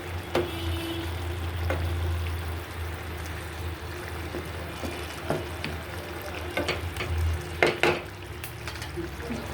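Pieces of rohu fish frying in a pan for a rohu and pointed gourd curry, a steady hiss and sizzle with occasional sharp clinks of a utensil against the pan.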